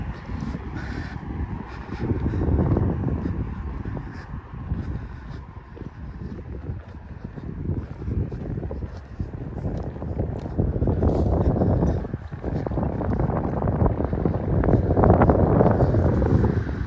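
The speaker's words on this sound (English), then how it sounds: "It's windy." Steady wind buffets the microphone with a low, rumbling roar that swells and eases, with faint crow calls somewhere in the distance, on a walk from Lagoa to Ponta Delgada in the Azores.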